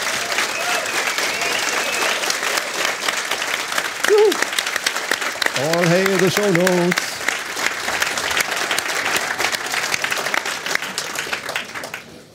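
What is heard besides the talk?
enthusiastic audience applause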